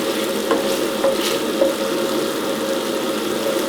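Courgettes simmering in cream in a pan, a close, steady bubbling sizzle with a few light stirring scrapes.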